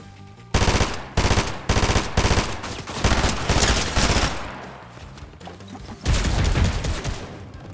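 A mythic automatic rifle fires rapid bursts in a ranked solo shooter match, loud and close, several long rattling volleys separated by brief pauses, with no talk over them.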